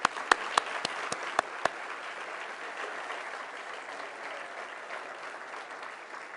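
An audience applauds at a James Webb Space Telescope progress event, starting with a few loud distinct claps that quickly merge into a dense, sustained wash of clapping that carries on evenly to the end.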